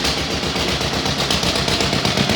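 An old vehicle engine found in a barn cranks over repeatedly without firing, a fast rhythmic chugging churn that runs loud and close for the whole stretch, with no voices.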